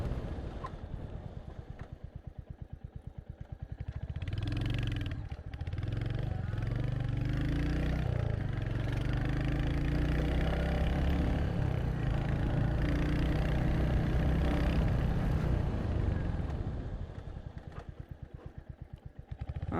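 A 2025 Royal Enfield Hunter 350 single-cylinder motorcycle thumps at idle, revs up and holds a steady ride for several seconds, then winds down to a chugging idle during braking, loud and close throughout.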